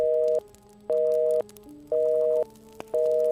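Repeating telephone busy signal after a call is cut off: four evenly spaced dual-tone beeps, each about half a second long with equal gaps, clear and steady with no talk.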